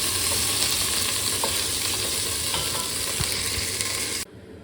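Lamb pieces fry in a pan with a steady, close crackling sizzle and occasional stirring pops, continuous until the sound cuts off abruptly near the end.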